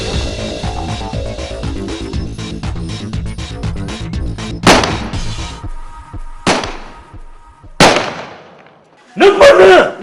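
Gunfire in a Sindhi drama scene: several loud, sharp shots crack out one by one in the second half, spaced a second or two apart, following a stretch of busy background noise and voices.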